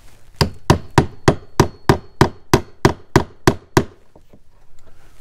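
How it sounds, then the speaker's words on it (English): Eleven sharp hammer strikes, used to widen a screw hole, land in a steady, even rhythm, close and loud, then stop, leaving a faint tap or two and quiet room noise. "I'm going to use my hammer"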